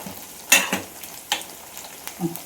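Onions frying in a little oil in a pan, heard as soft sizzling broken by a few louder scraping stirs and clanks of a spoon against the pan, close and without talk.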